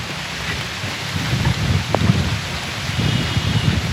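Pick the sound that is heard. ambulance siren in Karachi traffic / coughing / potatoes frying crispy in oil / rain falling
rain falling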